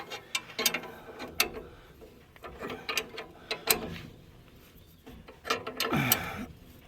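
A ratchet tightening the spring nuts on a trailer, with quick clicking bursts in repeated short strokes and pauses between them, close and clear.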